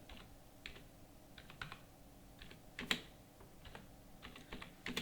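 Quick bursts of keystrokes on a computer keyboard as an address is typed into accounting software, irregular clusters of light clicks with one sharper tap midway, close and fairly quiet, no voices.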